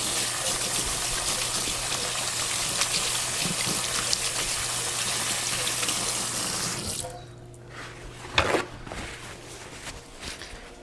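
Hands are washed under a running kitchen sink tap: a steady stream of water flows for several seconds, then shuts off, followed by a brief clunk and quiet handling noises.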